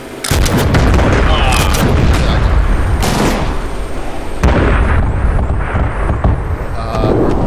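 Howitzer artillery booms in a video-game battle, heavy blasts and crackling bursts landing repeatedly over several seconds amid rumbling battlefield noise, loud and close.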